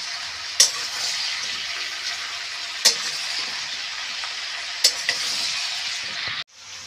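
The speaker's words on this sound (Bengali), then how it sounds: "আমি লাল লাল করে ভেজে নিচ্ছি এঁচোড়টা আলুটা পেঁয়াজ একসাথে।" Jackfruit, potato and onion fry together in a pan with a constant sizzle, broken by three sharp scraping stirs spread across the stretch, close and clear with no talking.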